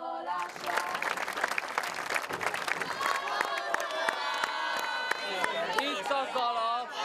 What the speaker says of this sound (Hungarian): És a jól megérdemelt taps.